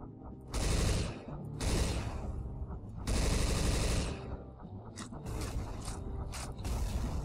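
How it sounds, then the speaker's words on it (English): Bombs exploding in the Left 4 Dead 2 zombie shooter, dense bursts of blasts and gunfire in loud waves over a steady mechanical rattle. "Oh, those are bombs."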